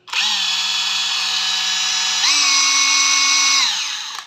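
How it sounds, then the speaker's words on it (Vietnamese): A Hilti TS6A36 36V brushless cordless hammer drill runs steadily and loud on its own, a smooth high-pitched motor whine that steps up in speed partway through, then winds down at the end. "Bê tông Hilti TS6A36. Con này là 36V không chổi than."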